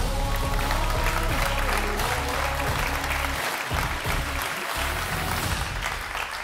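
An audience applauds loudly and continuously to welcome a speaker onto a stage at a talk event, a dense, sustained clapping roar lasting several seconds.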